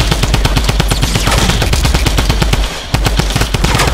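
Rapid bursts of drum gun fire in a shooter video game, loud and close, with a brief pause before the shooting resumes, no voices.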